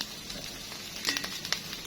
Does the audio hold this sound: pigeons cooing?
no